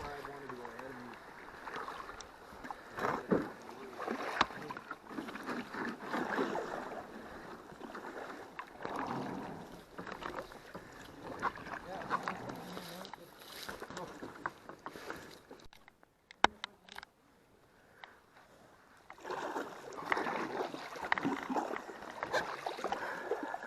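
Kayak paddle strokes and water swishing as a K2 kayak moves down a small woodland creek after a portage, steady splashy rhythm with a brief quiet gap midway, heard under intermittent talking.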